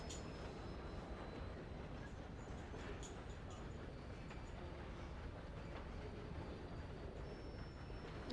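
A train rolls along steadily in the video game Red Dead Redemption 2, a faint, continuous rumbling clatter of wheels on track with no distinct breaks.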